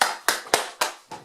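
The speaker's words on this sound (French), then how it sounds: "Ah, il est 20h, j'applaudis." A single person claps hands at 8 pm during lockdown, five sharp claps in a slightly uneven rhythm, close and clear with no talking.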